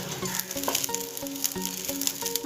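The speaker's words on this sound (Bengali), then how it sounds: "জলটা যতক্ষণ না শুকিয়ে যাচ্ছে ততক্ষণ আমি নাড়াচাড়া করবো এভাবে" Soaked rice is stirred in a hot pan as the last water cooks off, giving a continuous close sizzle with rhythmic scraping and stirring strokes throughout.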